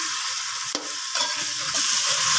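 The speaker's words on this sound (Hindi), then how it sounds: "5 से 10 मिनट तक इसको आलू में अच्छी तरीके से भुनाई करेंगे" Potatoes with spices stir-frying in a pan for aloo katli, a steady loud sizzle with occasional scrape and stir knocks, no talking.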